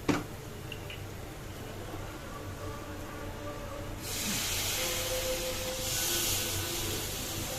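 Masala paste in a pan, with a little water just added, for a duck egg korma with hog plum and coconut: a quiet simmer that swells midway into a steady, louder hiss and sizzle.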